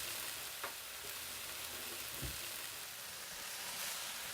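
Onions and chives frying in a pan with meat give off a steady, soft sizzle with a faint stirring scrape partway through, moderately close and with no talking.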